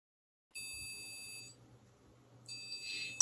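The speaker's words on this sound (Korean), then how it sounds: "1초 간격으로 도 소리가 나는 것을 확인할 수 있습니다." An Arduino passive buzzer sounds a do note as a clear, steady electronic tone lasting about a second, falls silent, then sounds again one second later, faint and close.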